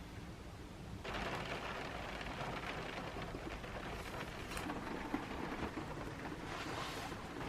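Rain falls steadily outside a converted camper van, a dense continuous patter on the surface that thickens after the first second and holds evenly, with no voices.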